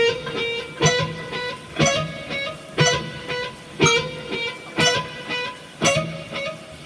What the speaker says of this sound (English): everything's what's called staccato, everything's cut really short.